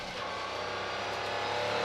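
The number 1 car's engine roars steadily from onboard during an SCCA sports car race at dusk, a loud continuous drone that rises slightly in pitch as the car holds speed.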